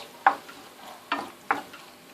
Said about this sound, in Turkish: küp küp doğradım domateslerimi atıyorum